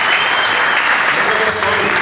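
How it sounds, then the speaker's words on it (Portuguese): A church congregation applauds together in praise of the Lord, a loud, steady wash of clapping filling the room with no pauses and some voices mixed in. "vamos dar um aplauso ao Senhor pela vida dos que estão aqui"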